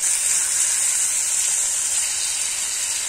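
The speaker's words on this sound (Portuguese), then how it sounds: "e vira, deixa ele selar do outro lado, tá?" Beef steak sears in a frying pan with a steady, close, high sizzling hiss that holds evenly throughout, and no voices.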